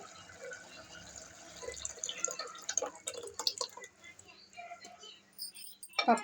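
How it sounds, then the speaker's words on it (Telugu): Water poured into thick cooked dal for sambar, a faint, intermittent trickle and dripping splash in a kitchen, ending with a brief louder clatter. "సో కొన్ని నీళ్లు పోసుకున్నామండి."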